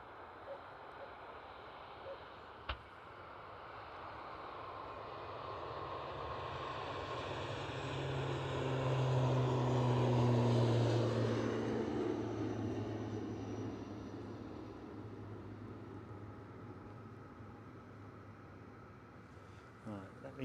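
An ATR turboprop aircraft at Edinburgh airport swells from a distant drone into a loud, low propeller roar with a steady tonal hum, peaking midway before fading off into the distance.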